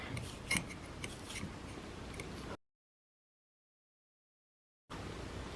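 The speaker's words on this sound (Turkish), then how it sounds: "Şuraları makrume tarağıyla tarıyorum." A macrame comb scrapes through a knotted cord fringe in quick, faint rasping strokes, up close and quiet, then stops for a couple of seconds of silence before the combing resumes.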